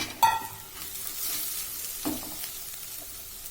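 Grated coconut is stirred in a pan for coconut rice, with a soft sizzle and a few scraping spoon strokes, including a sharp clink near the start, heard close by.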